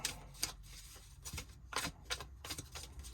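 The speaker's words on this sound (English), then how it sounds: "one more shuffle" Tarot cards shuffled by hand, a run of soft riffling bursts and papery flicks at close range, fairly quiet, with no talking.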